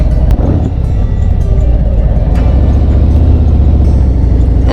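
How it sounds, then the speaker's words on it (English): Harley-Davidson motorcycle engine running steadily and loud at close range, a deep continuous rumble with a low throbbing beat, ridden on an old dirt road between Mariposa and Hornitos. "Love the sound of this bike."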